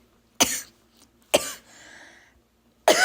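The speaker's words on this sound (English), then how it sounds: "So I might cough a little, I might sneeze a little" Three sharp, close coughs from a person recovering from flu, spaced about a second apart in a quiet room, the middle one trailing into a raspy breath.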